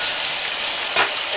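Salami dropping into a hot frying pan of browning rice with vegetables and chicken, giving one brief louder sizzle burst partway through over a steady background frying hiss.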